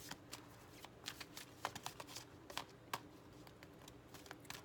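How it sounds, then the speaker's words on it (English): Oracle chakra cards are shuffled and drawn in quiet, close, irregular bursts of soft riffling and snapping card flicks, with no voices. "I'm going to pull another chakra, wisdom oracle chakra card."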